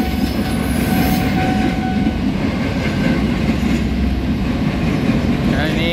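A KRL commuter train runs from Jakarta Kota toward Tanjung Priok station, rumbling steadily close by with rail clatter and a faint high wheel squeal near the end.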